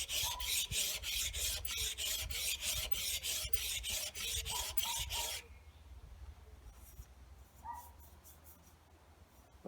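Rust being scrubbed off old, weathered support posts: a close run of regular, rhythmic rasping strokes, roughly two per second, that stops halfway through, leaving a quiet room with a few faint handling noises.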